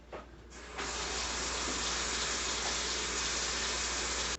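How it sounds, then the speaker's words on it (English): Tap water runs steadily into a sink as hands are rinsed, a broad continuous hiss that switches on after a brief moment and holds at even strength, close and alone, then cuts off abruptly. "I'm going to just give my hands a little wash up here"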